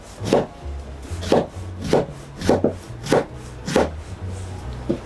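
Knife cutting a soft eggplant on a wooden board for miso soup: five steady, evenly spaced slicing strokes with a light thud as each cut reaches the board.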